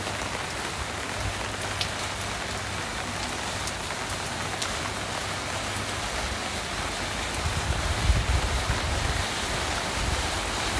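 Steady rain in Phuket, Thailand, hisses evenly on surfaces and a large umbrella during a walk from Boat Lagoon toward Royal Phuket Marina, a continuous moderate wash of drops with no voices.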